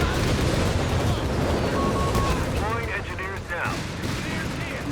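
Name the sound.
Nebelwerfer rocket barrage in video game Company of Heroes 3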